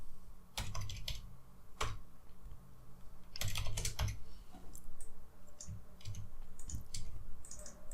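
Computer keyboard typing in bursts of quick key clicks with short pauses between them, close and clear, with no voices.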